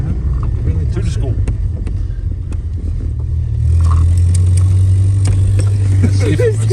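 1994 Ford Ranger with a swapped transmission and a weak four-cylinder engine, a loud low engine drone inside the cab that rises in pitch partway through, with people talking over it throughout.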